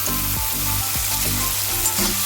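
Tomatoes sizzle and crackle in hot oil with fried onions in a pan for rava upma, loud and close, with the rhythmic scrape of a spatula stirring several times.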